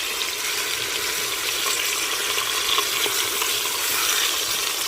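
Pork chops sear in a hot Instant Pot after being flipped, giving a steady, close sizzle and crackle of frying meat that runs evenly throughout with no voices.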